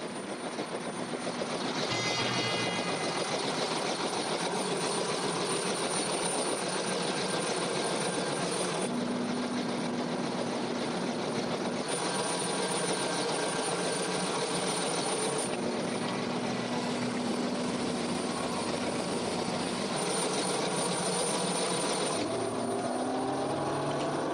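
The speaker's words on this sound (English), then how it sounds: "Isn't that a helicopter?" A helicopter drones steadily throughout, its rotor and engine noise loud and continuous, with no talking.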